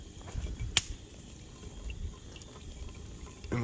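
Water pours from a kettle into a GSI pour-over coffee maker at a snowy forest campsite. The pour is soft and continuous, with faint trickling and one sharp clink, set against a low outdoor background.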